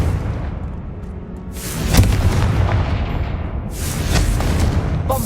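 Confringo fire spell blasts in the game Hogwarts Legacy, two loud booming explosions with rushing bursts and rumbling tails, close and powerful.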